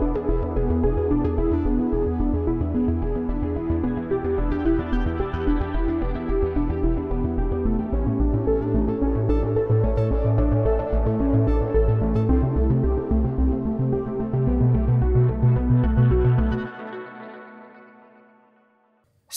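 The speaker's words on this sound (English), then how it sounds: "how to make cinematic bass plucks that sound something like this." Cinematic bass plucks from a software synthesizer sound as a loud, dense, rapidly repeating deep pulse with washy effects layered above. The pattern runs steadily, then cuts away and rings out into a fading tail.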